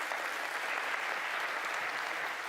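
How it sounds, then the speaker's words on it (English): Applause from a CV Summit 2022 audience, an even, unbroken roar of many people clapping at moderate level, heard alone for the whole stretch. "So a round of applause"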